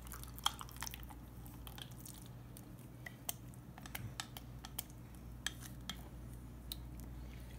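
Mayonnaise spooned into a bowl of deli-style macaroni salad, with soft wet squishes and light clicks of a utensil against the bowl, scattered and quiet over a low background hum.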